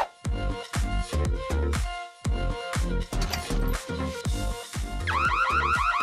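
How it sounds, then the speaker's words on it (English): Car alarm going off loudly and close, cycling through rapid pulsing tones and bursts with short gaps, ending in a fast warbling siren pattern. "The alarm went off."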